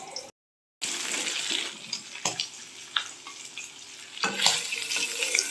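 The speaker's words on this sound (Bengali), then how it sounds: "আমরা হালকা ভেজেই নেব, হালকা ভাজি মানে তেলে ছুঁয়ে নেওয়া আর কি।" Hilsa fish pieces sizzle lightly in hot oil in a home kitchen, a soft continuous frying hiss broken by a brief silence near the start and scattered crackles and clinks of stirring, with no talking.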